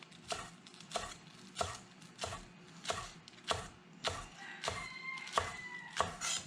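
Knife cutting green onions at an angle on a board, producing a steady run of about a dozen crisp, evenly spaced chops, close and clear with no talking.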